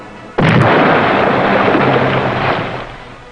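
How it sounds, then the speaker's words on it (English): A sudden, heavy depth charge explosion bursts out close to a submerged submarine, then rolls into a long, loud rumble that slowly fades. "As the submarine reached 250 feet, there was another close explosion."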